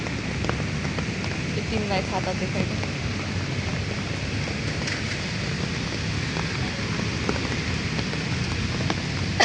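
Rain falls on a Kathmandu street, a steady patter and hiss with scattered sharper drips close by, while a person talks over it.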